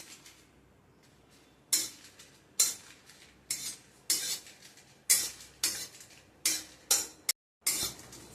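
Dried chillies and whole spices being dry-roasted in a kadai, with a series of sharp scraping, rattling stirs of a metal spoon against the pan at an irregular rhythm, close and fairly loud, no voices.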